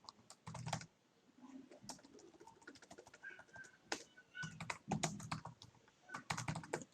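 A computer keyboard is typed on in quiet, irregular clusters of soft clicks, with short pauses between bursts of keystrokes.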